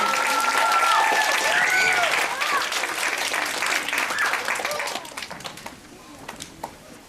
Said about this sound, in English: let's give everyone a huge round of applause for all of the work